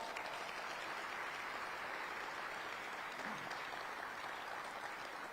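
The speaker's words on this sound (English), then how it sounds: "Let's give them all a round of applause." Sustained audience applause at a 2025 State of the City address, a dense steady wash of many hands clapping that holds evenly for about five seconds without pause.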